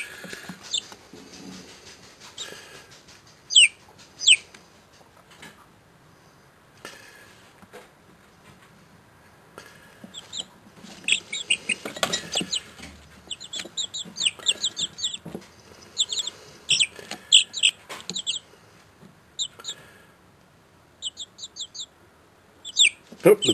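Chickens in a backyard flock give quick high chirps and tweets in scattered bursts, with soft clucks between them. Rustling and handling noises sit beneath them and grow busier midway through.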